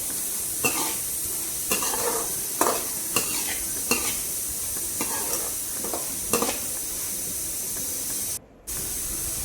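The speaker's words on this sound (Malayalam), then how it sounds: "നന്നായി ഇളക്കി കൊടുക്കാം." A spoon stirs food in a sizzling cooking pan, scraping in repeated close, rhythmic strokes over a steady frying hiss, with a brief drop to quiet near the end.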